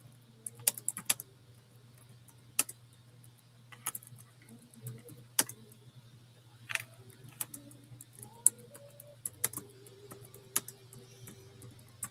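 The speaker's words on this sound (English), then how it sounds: "Let me get this typed in." Computer keyboard typing during a live vintage costume jewelry sale: quiet, scattered bursts of key clicks in irregular clusters over a steady low hum, close to the microphone with no talking.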